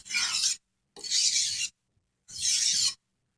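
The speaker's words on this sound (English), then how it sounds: "you have to have pressure to sharpen a knife, especially when it's really dull and you're using that first coarse stone." A dull knife is pushed under firm pressure across a coarse sharpening stone, giving three close, loud, steady rasping strokes of about half a second each, separated by short silences.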